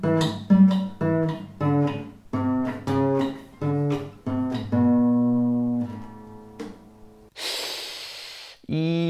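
Halting, uneven electric guitar plucks, single notes and chords with gaps between them, followed by a sharp burst of noise and a breath.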